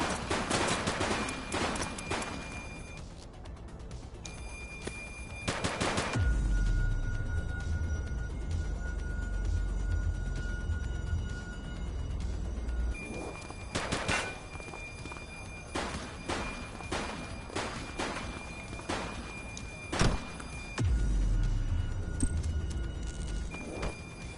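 Gunfire in the video game The Precinct: sharp shots come in scattered bursts and quick clusters over about twenty seconds, mixed with dense background noise and low rumbling.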